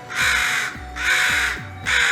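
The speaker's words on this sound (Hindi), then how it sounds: "कौवा लगातार गाना गाए ही जा रहा था" Crow cawing in a forest fable setting, about four loud, harsh caws in steady rhythm, each separated by a short pause, heard up close with no talking.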